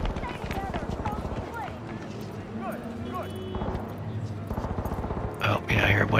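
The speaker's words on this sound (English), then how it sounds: "I hear a bunch of gunfire, but that's not up here." Distant gunfire crackles in bursts in Cyberpunk 2077, a futuristic open-world shooter game, heard under in-game ambience and steady chatter from a player talking over it.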